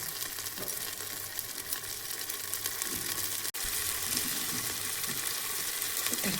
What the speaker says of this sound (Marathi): चला आता पाणी टाकून घेतलं